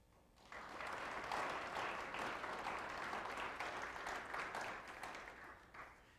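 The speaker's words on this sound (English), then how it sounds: "Please give these ladies a round of applause." Audience applause at the Orange City Tulip Festival queen's crowning event, honoring the Tulip Queen candidates: steady, dense clapping rising quickly and holding for several seconds before tapering slightly at the end.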